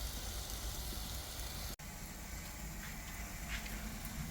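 Soft, steady sizzling hiss of a porterhouse steak cooking on a gas grill, faint and continuous, with one brief dropout partway through.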